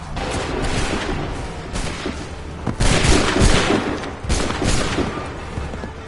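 Musket volleys fired on command in Assassin's Creed III, a dense crackling fusillade with several loud bursts rolling one after another, the strongest near the middle and again toward the end, thick with battlefield din.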